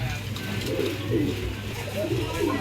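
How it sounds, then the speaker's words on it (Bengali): A pair of Iranian Baghdadi Huma pigeons coo in low, repeated rolling phrases, close and clear over a steady background hum. "দর্শক এখানে দেখতে পাচ্ছেন একজোড়া ইরানি বাগদাদি হুমা কবুতর"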